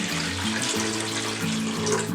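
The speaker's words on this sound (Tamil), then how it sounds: "இதுல நிறைய தண்ணி விட்டுறலாம் முதல்ல" Water runs from a tap into a large pressure cooker, a steady close splashing fill with a rising tone as the pot takes on a lot of water.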